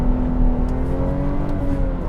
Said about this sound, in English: I love how easy it is to light up the tires with this